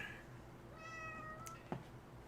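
A single cat gives a drawn-out, faint meow indoors against quiet room hum, followed by a small sharp knock; no talk.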